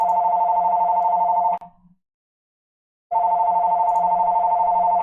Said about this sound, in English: Sorry about the phone.